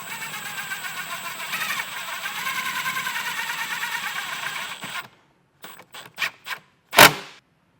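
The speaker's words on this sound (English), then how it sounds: "I'm going to ground this right here in this area using the provided self-tapping screw" A powered driver spins a self-tapping screw in to ground a wire. About five seconds of steady, pulsing whir give way to several short bursts and a final sharp knock.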